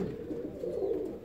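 Saxon swallow fancy pigeon chicks give soft, low cooing and murmuring calls up close, a brief continuous burble with no talking.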